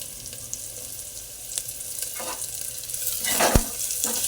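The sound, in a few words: stirring green chillies frying in a pan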